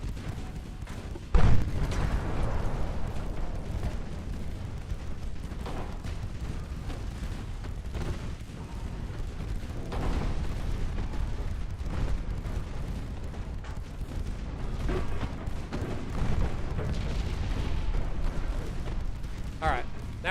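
Warship secondary guns firing on a heavy cruiser in the naval strategy game Ultimate Admiral Dreadnoughts, with a sharp boom early and repeated dull distant thuds under a steady low rumble.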